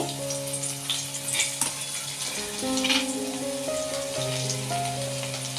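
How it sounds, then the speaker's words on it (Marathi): Ground masala dropped into plenty of hot oil for a ridge gourd dish, sizzling and frying steadily with a few brighter spits and crackles, close and unaccompanied by talk. "हा बघा मी मसाला कुटलेला आहे ना हा मसाला टाकते"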